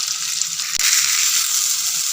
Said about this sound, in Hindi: प्याज को हमने सौटे करना है, हमने ज़्यादा ब्राउन नहीं करना।